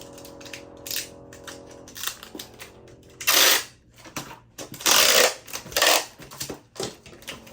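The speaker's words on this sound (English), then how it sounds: "just put it in the cardboard box, and we'll end up taping this down" A cardboard shipping box is taped shut while packing, with sharp bursts of tape pulled and ripping off the roll between rustles and taps, close and fairly loud.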